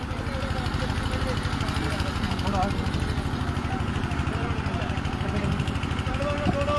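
A motorcycle engine idles with a steady rhythmic putter as bikes are parked at a village wrestling dangal in Karoda, Kaithal, a loud continuous chug under an announcer's voice and crowd murmur.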